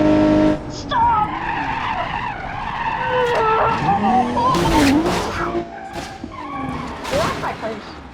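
A crew cab offroad truck in the BeamNG Drive driving game skids with squealing tires and crashes into a rock, loud and close, with screeching and grinding impacts spread across the clip.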